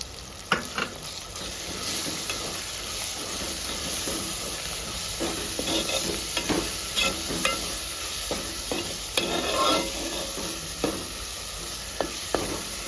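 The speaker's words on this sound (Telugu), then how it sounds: "కొంచెం పచ్చివాసన పోయేంత వరకు మంచిగా ఫ్రై చేసుకోవాలి" Masala fries in a pan for a small-fish curry, a steady hiss and sizzle broken by scraping spatula strokes that come in irregular bursts, close and moderately loud, with no talking.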